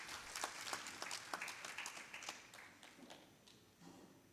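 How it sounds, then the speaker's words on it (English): An audience at an HIV service delivery integration summit applauds a speaker, with a fairly faint, distant patter of many hands clapping that gradually thins out over a few seconds. "Let's clap for her."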